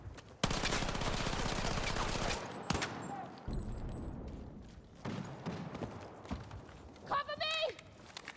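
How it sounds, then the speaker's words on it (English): Video-game gunfire from a tactical shooter played on a Steam Controller: a loud, rapid burst of automatic fire, then scattered shots and impacts, with game voices and radio chatter mixed in. "Why are you shooting?"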